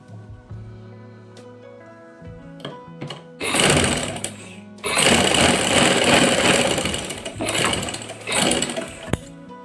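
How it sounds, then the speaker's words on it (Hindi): A sewing machine stitching a kameez, starting with quiet clicks and thunks, then two long loud runs of fast, steady mechanical whirring, ending with shorter bursts. "अभी भी जबकि मैं पूरी कमीज़ की सिलाई कर रही हूँ"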